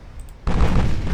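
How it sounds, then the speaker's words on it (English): Torpedo salvo launched from a warship in the naval game Ultimate Admiral Dreadnoughts: a quiet lead-in, then a sudden loud, deep booming burst that holds heavy and rumbling to the end. "Let's fire a salvo."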